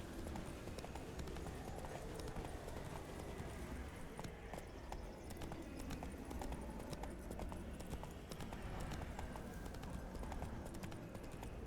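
Rhythmic clip-clop of horse hooves at a steady gallop in the video game The Witcher 3: Blood and Wine, continuous and fairly close, over a dense rumbling background with no clear talking.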